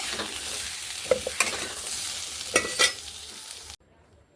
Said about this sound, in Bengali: পটল আলুটা একটু ভাজা ভাজা করে নেব। পটল আলুগুলো একটু ভাজার দরকার ছিল